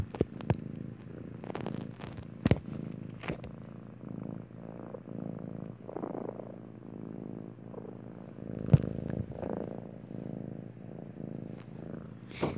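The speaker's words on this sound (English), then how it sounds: "my kitten is purring right next to the mic." A kitten purrs right beside the microphone, a soft, steady, rhythmic rumble that continues throughout with a few faint clicks and taps.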